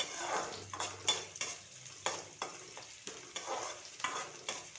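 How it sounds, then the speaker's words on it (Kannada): Chopped onion frying in oil with mustard seeds and cumin for ridge gourd sambar, a soft steady sizzle broken by repeated scraping strokes of a spoon against the pan, regular and close, with no voices. "ಈಗ ಉಳ್ಳಾಗಡ್ಡಿನ ಸ್ವಲ್ಪ ಹಸಿ ಸ್ಮೆಲ್ ಹೋಗೋ ತನಕ ಹಿಂಗೆ ಫ್ರೈ ಮಾಡ್ಕೋಬೇಕ್ರಿ."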